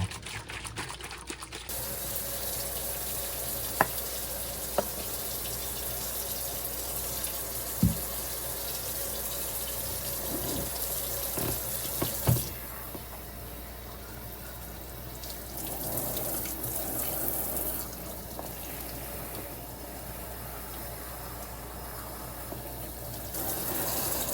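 Tap water runs steadily into a sink to soak hair before a silk press, a continuous close hiss and splash. A few faint knocks sound early on, and the flow changes tone partway through.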